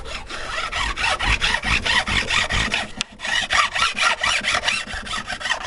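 Stainless steel guitar fret ends being cut and filed during a refret, heard as a steady run of rhythmic rasping strokes, close and fairly loud, with a brief break near the middle and no talking.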